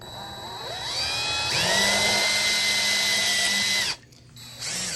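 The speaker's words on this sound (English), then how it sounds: "I'm just going to drill through using this drill" A handheld power drill whines steadily as it bores through a metal tube, the pitch dropping slightly under load before the motor cuts off and briefly spins up again, close and loud.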